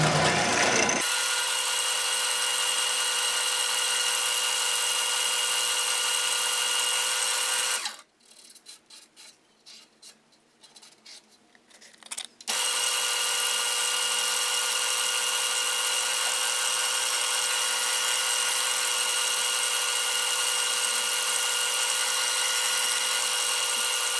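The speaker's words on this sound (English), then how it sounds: "For sanding, we're going to start at 150 and then just go through 600 grit." Steady, continuous whir of a power sander working a small cherry wood coffee scoop through progressively finer grits, loud and close, cutting out for a few seconds of light scraping and handling before the motor resumes its even drone.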